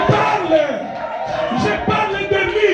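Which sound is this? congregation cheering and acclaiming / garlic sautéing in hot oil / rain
congregation cheering and acclaiming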